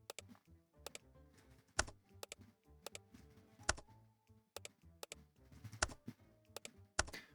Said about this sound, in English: Now press D on your keyboard and add the dimensions of your screw.